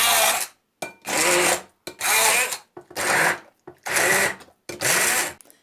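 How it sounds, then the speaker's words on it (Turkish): Food processor puréeing chopped dates with their skins on, running in six loud grinding bursts of about half a second each, separated by short silences, close and alone. "Ve bunları hepsini rondo yapacağım."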